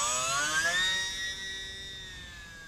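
Small lightweight radio-controlled airplane flying outdoors in a light breeze, its electric motor giving a steady high whine with a slow pitch drift as it passes, fairly close and continuous with no voices.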